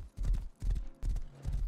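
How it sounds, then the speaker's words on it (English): Horse hooves clip-clop in the video game Rust, a quick, steady rhythm of hollow thuds in repeated bursts, close and fairly loud with no talk over them. "Oh, a new horse."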